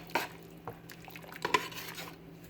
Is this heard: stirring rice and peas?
yes